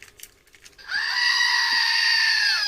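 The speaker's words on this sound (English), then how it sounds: "Let's hear the goats." Recording of goats bleating played back: a few faint clicks, then one long, loud, wavering bleat holding steady to the end.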